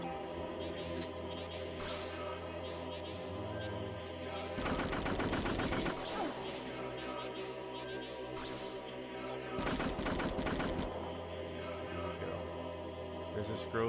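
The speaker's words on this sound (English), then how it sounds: "I gotta switch weapons to the MP5" MP5 submachine gun firing in the video game Parasite Eve, two rapid bursts of automatic fire about a second long each, heard over a steady droning game music track.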